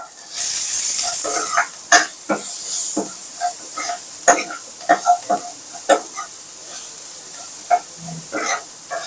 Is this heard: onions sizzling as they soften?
yes